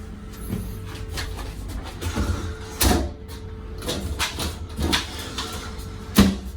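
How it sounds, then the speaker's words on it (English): A curved shower door in a cruise ship cabin sliding and closing, a series of scraping, rolling slides and clicks spread over several seconds, close by and moderately loud, ending with a sharper knock. "the door closes in a circular manner"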